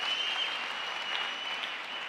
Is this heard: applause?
yes